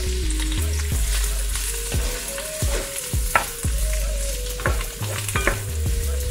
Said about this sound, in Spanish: Lo que estoy haciendo es que se dore bien los ajos y el kion.